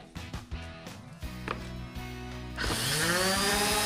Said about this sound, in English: now I'm just routing around the edge to make a nice perfect fit